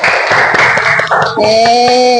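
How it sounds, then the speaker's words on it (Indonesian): Students in a classroom clap together for a brief burst of dense, loud applause that fades out, followed by an adult voice speaking over a lingering musical tone. "Tepuk tangan sekali lagi untuk anak-anak Ibu."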